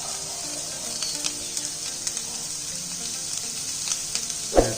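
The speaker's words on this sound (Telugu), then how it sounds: "లైట్గా 5 minutes ఫ్రై చేసుకోండి" Egg roll filling sizzles and fries in a pan with pepper powder, a steady bright hiss with small pops and crackles, close and continuous, ending in a louder clatter.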